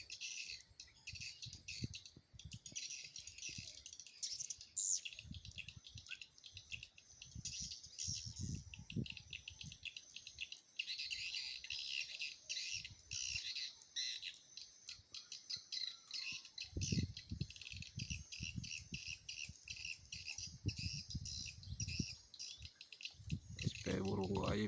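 Many small birds chirp and tweet steadily in a bird house fitted with lamps, a dense bright chatter running throughout, with low rustling and some soft voices underneath.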